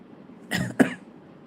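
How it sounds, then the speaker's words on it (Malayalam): Two quick, sharp coughs close by, one right after the other, in a quiet room. "ചുമ അങ്ങോട്ട് മാറിയില്ല കേട്ടോ"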